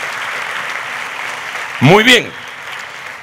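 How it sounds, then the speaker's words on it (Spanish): A church congregation keeps up steady, moderate applause during a Holy Communion service, and a voice briefly speaks over the clapping. "Dele ese aplauso bien fuerte al Rey."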